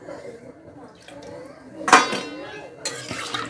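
A spoon scrapes and clatters in a pan as water is stirred into shahi paneer, a soft metallic clink landing midway, then a brief rush of liquid and stirring afterward; it stays fairly quiet throughout.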